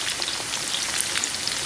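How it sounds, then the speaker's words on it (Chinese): Scallion, ginger, garlic and a block of hot pot base sizzle in a wok, a soft, even crackle of frying oil at moderate distance with no voices. "葱姜蒜爆香，来一块火锅底料"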